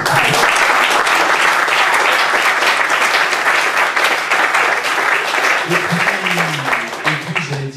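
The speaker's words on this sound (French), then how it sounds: "On peut l'applaudir même si c'est pas." Loud, full applause from a concert audience, dense clapping throughout, with a voice briefly speaking over it near the end as the clapping begins to thin.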